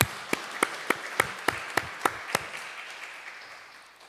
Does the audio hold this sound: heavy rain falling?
no